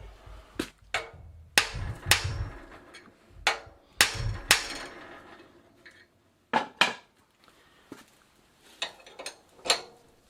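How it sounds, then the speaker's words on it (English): Sharp metallic hammer taps strike the crank arm of an old Dutch Phoenix Mentor bicycle in irregular bursts, some quick pairs and singles, with short pauses between them, close and fairly loud. "now I'm going to give it a little dab with a hammer"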